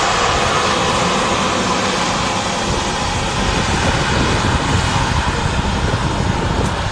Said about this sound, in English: Great shots there of the A320 taxiing in with EasyJet